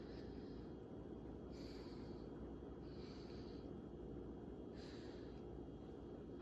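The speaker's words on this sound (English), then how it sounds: "this super attractive, deep, heavy breathing right into the microphone of the camera" Deep, heavy breathing right into a camera microphone, slow breaths rising and falling over a constant rumbling noise bed, close and muffled.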